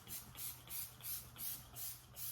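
Setting spray mists onto a face in seven quick, evenly spaced hissing bursts, soft and close against a quiet low background hum.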